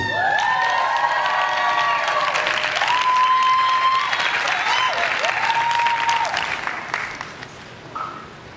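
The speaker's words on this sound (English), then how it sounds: "Please give a big round of applause for Tasha Ruth." An awards-ceremony crowd claps steadily and warmly, with a few cheers and whoops rising over it, before the applause tapers off.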